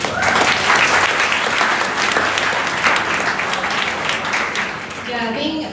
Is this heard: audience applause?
yes